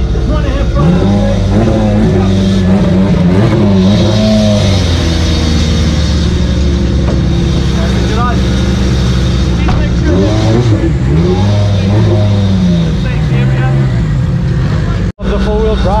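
At a South African drag racing event, a BMW M5 and a Honda Civic line up with engines loudly rumbling and revving close by, under heavy crowd chatter and talking throughout, followed by a brief sharp dropout near the end.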